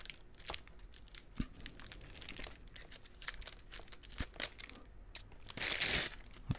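Packaging for a NES Classic Mini is opened up close with soft crinkling, rustling and small tearing sounds, ending in a brief louder crumple.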